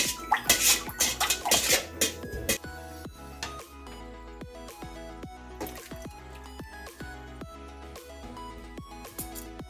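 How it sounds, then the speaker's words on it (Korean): Oysters and maesaengi seaweed swished by hand in salted water in a metal bowl, with loud clattering and splashing at first, then softer repeated clinks and gentle sloshing, close by and without talk. "굴과 매생이를 한번 세척해 보겠습니다"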